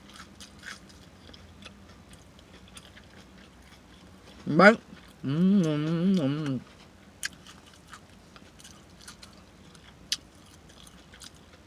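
Someone chews a mouthful of crunchy Popeyes fried chicken close up, with a sharp bite followed by about a second of loud wet crunching and smacking. The rest is quiet apart from a brief spoken word.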